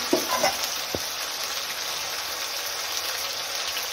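Potatoes frying in a pan over a high flame, a steady hissing sizzle with a few sharp crackles and a soft knock near the start, no speech.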